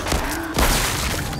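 A couple of sharp gunshot bursts from the VR shooter game Arizona Sunshine 2, with loud thuds and a shattering crack in quick succession.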